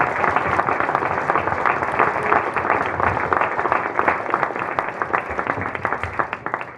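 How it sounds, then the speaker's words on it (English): Steady audience applause at a mayor's public night out in Hammond, a dense, even wash of many hands clapping that carries on for about seven seconds with a faint murmur of voices underneath. "Can you give Casey Farrell a round of applause for stopping a big leak with a baseball bat?"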